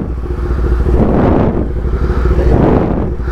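Superbike engine and exhaust on the road, a loud rough droning rumble that swells and eases twice with the throttle, buffeted by wind noise and with no talk.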